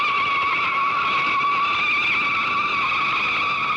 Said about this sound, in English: Biggest crowds ever to watch stock car races come to Daytona each year